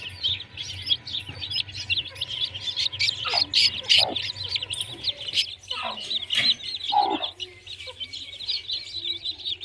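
A hen and her chicks peck at bread pieces, the chicks cheeping in rapid high peeps while the hen clucks low nearby, with a few louder calls breaking through.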